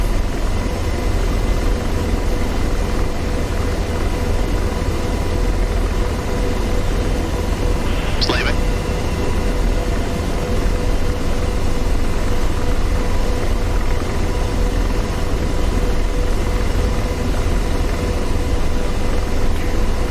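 Apache helicopter in DCS World over the Syria map: a steady, dense rotor and turbine drone holds at an even level throughout, with no talking.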